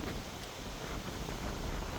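Wind gusts blowing steadily outdoors at a house construction site during the framing phase, producing a loud, constant rumbling buffet across the whole span with no voices.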